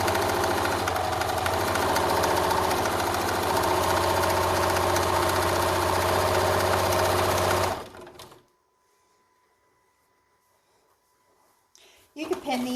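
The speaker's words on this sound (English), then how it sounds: "I'm going to sew a 1/2 inch seam across the flat edge on the top" A sewing machine stitches a half inch seam along the flat top edge of a concealed carry belly band, a steady close mechanical whirr for several seconds that stops abruptly, followed by near silence and a brief handling rustle.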